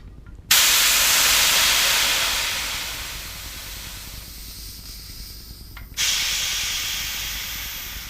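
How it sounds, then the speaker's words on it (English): Air hisses out of a bicycle tire on a Reynolds Strike wheel through a valve extension. A loud, close burst fades gradually over five seconds, cuts off, then a second strong hiss starts. "I'm going to go ahead and let the air out."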